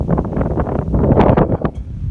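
Strong wind buffets the microphone outdoors at a remote camp on the northern Llyn Peninsula in Wales, a loud continuous roaring rumble with gusting surges and no voices.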